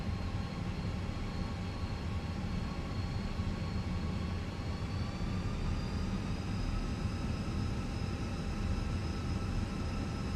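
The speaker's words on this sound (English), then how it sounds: "we're just waiting on the APU to shut down off its own accord" An Airbus A320 auxiliary power unit runs in a flight simulator, a constant close whine and roar with steady high tones that drift slightly upward, unbroken for ten seconds.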